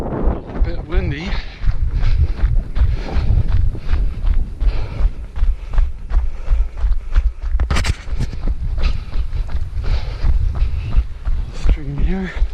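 Strong gusty wind buffets the microphone on a trail run through Battle Darby Creek Metro Park, a loud rumbling roar that runs throughout over footsteps, with brief bursts of talk.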